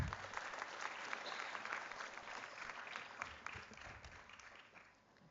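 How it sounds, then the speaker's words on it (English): Sustained applause from a seated audience at a school gathering honouring department heads, dense clapping that holds steady and then fades out toward the end. "A round of applause for our heads."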